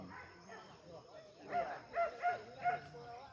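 Hunting dogs on a morning wild boar hunt in the Talang Tangah savanna give a few short, yelping barks in quick succession, fairly faint, amid people talking and outdoor background noise.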